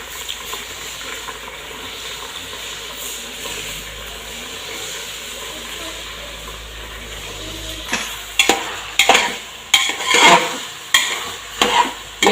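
Rice roasting in a pan for ghee rice gives a soft steady sizzle, then from about two-thirds through comes a run of loud, rhythmic scraping strokes as it is stirred.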